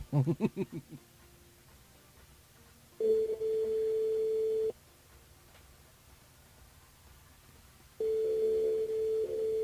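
An electronic telephone tone sounds in long steady bursts separated by silence, after a brief burbling start; clear and moderately loud.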